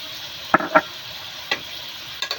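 Ginger paste and dry spices sautéing in a pan, a steady soft sizzle with a few sharp scrapes of a spoon stirring.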